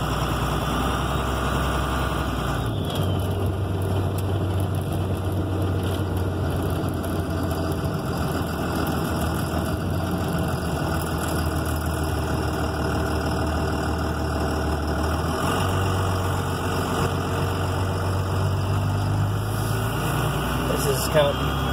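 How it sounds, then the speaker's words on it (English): A 1994 12-valve diesel engine paired with a low-stall torque converter and a 47RH transmission idles with a steady low drone and a loping pulse throughout, loud and close, with speech in the background. "The motor is, as you say, strung up all the time. It just kind of lopes along."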